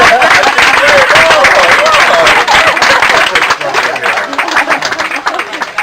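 Loud, sustained audience applause fills the room during a magic show, dense clapping with some cheering voices woven through, tapering slightly toward the end.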